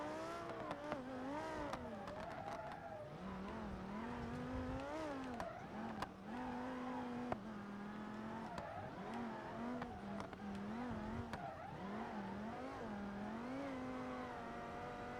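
A Gavril Vertex with a sequential gearbox drives in BeamNG.drive, its engine steadily revving up and down through repeated gear changes, with occasional tire noise and no talk.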